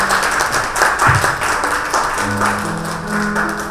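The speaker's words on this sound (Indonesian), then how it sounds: "Boleh kita berikan sekali lagi tepuk tangan yang meriah." Wedding guests give a lively round of applause, steady dense clapping filling the room at moderate loudness, with some background murmur and a faint musical tone underneath.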